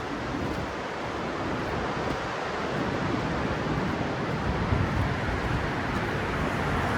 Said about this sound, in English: I hear a car coming, but I also hear waves